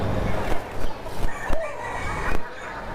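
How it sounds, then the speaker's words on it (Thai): A rooster among golden-feathered breeding chickens at a Ban Pong market stall crows close by, several loud calls and clucks over background chatter. "เป็นไก่สีใบสีทองครับ"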